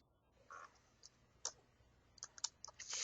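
Typing on a computer keyboard during a monogram software lesson, a few faint, sparse clicks and key taps in a quiet room.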